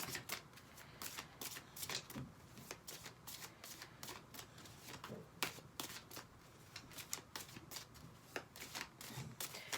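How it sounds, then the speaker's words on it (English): Tarot cards shuffled close up and quietly, repeated soft riffling bursts and taps in an uneven rhythm with no talking. "let's pull some tarot with that"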